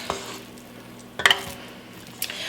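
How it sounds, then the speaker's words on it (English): A spoon scoops bacon cheeseburger meatloaf mixture into a lined pan, making soft wet squelching and a couple of sharp clinks of metal against the pan, close and brief. "So now all we need to do now is scoop the mixture into the pan."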